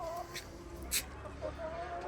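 Chickens cluck softly in the background, with brief calls scattered across a quiet barnyard.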